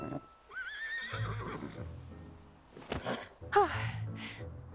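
A horse in Kingdom Hearts III lets out a loud, rising whinny early on, followed later by a snort and a second sharp neigh with breathy gasps, heard alone with no talk.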